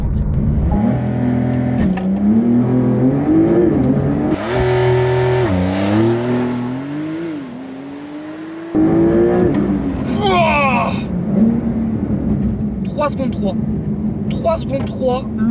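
A Porsche 992 launches hard under launch control from 0 to 100 km/h, the engine roaring and climbing through rising revs with quick gear shifts, loud and close, then dropping away into lighter mechanical and road noise.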